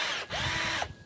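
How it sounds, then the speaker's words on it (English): A small, cheap Harbor Freight cordless drill whirs close up in a brief, steady burst, pausing for a split second before spinning again and then winding down. "This is a little cordless drill. I think this one was 20 bucks from Harbor Freight."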